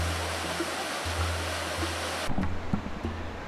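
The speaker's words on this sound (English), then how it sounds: "the McCloud River is channeled into a narrow gorge, constricting the water flow and sending it gushing out of the short 25-foot" The McCloud River pours over a short 25-foot fall after being squeezed through a narrow gorge, making a dense, steady roar of rushing water that cuts off abruptly partway and gives way to a few scattered knocks and thumps.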